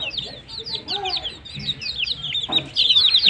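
Native chicken chicks on a farm peep in rapid, high, overlapping chirps, with a few lower clucks mixed in, all close and fairly loud.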